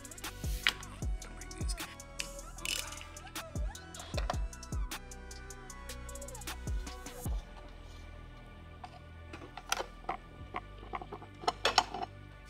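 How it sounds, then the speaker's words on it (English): A ratchet wrench working the 13 mm nuts off the wiper arms of a VW Mk5, giving close, intermittent ratcheting clicks and metallic clanks in quick bursts over a quiet background. "Pull the nuts off that hold the wiper arms down and then remove the wiper arms themselves."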